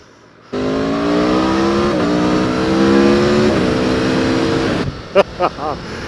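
A 2019 Aprilia Tuono V4 1100 Factory motorcycle accelerating hard in third gear, a loud rising engine howl climbing steadily in pitch, then cutting off sharply with a few quick crackles and pops on deceleration.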